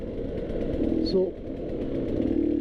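A KTM 150 XC-W two-stroke dirt bike lugs along in first gear on a rocky trail, its engine a steady close drone under a rider's talk.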